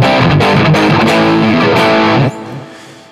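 Distorted electric guitar through a Zoom G2FOUR multi-effects pedal with amp simulation and delay, loud strummed chords and notes that cut off suddenly, leaving a quieter echoing tail fading out.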